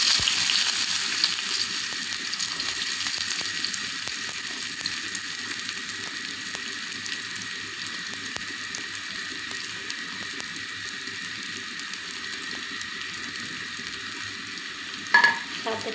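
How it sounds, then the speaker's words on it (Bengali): Chopped onions and garlic frying in oil in a pan for a dried fish biryani, a steady close sizzle running throughout with scattered stirring clicks and a brief clatter near the end, no talking. "এখন আমি পেঁয়াজ কুচিগুলো দিয়ে দেবো আর রসুন কুচিগুলো দিয়ে দেবো"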